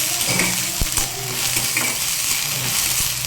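Bottle gourd seeds fry in a dry pan without oil for a vegetarian dish. A steady sizzle runs close and loud, broken by spatula scrapes and a few sharp knocks against the pan, with no talking.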